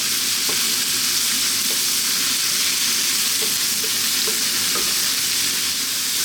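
Loud, steady sizzling of pork and peppers stir-frying over high heat in a hot wok, with scattered scraping and clattering as it is stirred and tossed; no voices.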